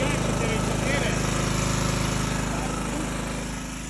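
A 4.4 kW portable generator runs steadily at close range, a loud, even engine drone with a buzzing hum that eases slightly toward the end.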